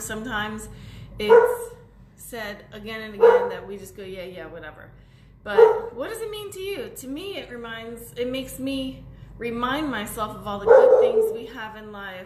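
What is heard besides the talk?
dog barking in the background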